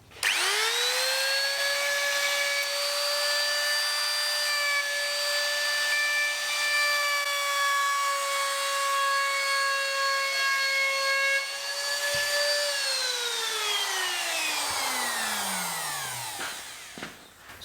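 A spindle moulder shaping an oak casement window frame spins up to a steady, loud high whine with strong harmonics, holds it for about twelve seconds, then winds down with a falling pitch as it coasts to a stop.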